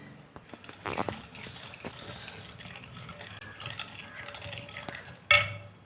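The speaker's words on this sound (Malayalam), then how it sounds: "വാനില എസൻസ് ചേർത്ത് നന്നായി ഇളക്കി കൊടുക്കാം" A spoon clinks and scrapes around a bowl while stirring a chocolate pudding mixture of cocoa, coffee, sugar and vanilla, giving irregular close taps and knocks with one sharp clatter near the end.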